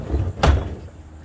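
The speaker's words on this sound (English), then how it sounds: "The noises you're hearing are me moving trash cans around." Trash cans are shifted about during a clean-out, giving one short, sharp knock or bang amid low rumbling handling noise, close by and with no talking.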